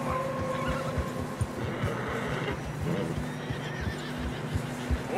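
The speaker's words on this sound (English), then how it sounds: "Horses are getting tired." Horses neigh and whinny while hooves thud through fresh snow on a narrow trail in a blizzard in Red Dead Redemption 2, with a steady wind-like wash underneath and irregular hoof falls throughout.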